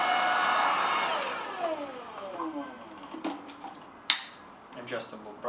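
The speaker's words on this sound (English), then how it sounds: "I will power up this vacuum cleaner" A Laresar Elite 2 cordless vacuum cleaner runs in eco mode with a steady motor whine that shifts in pitch. A few sharp clicks and taps come through near the end.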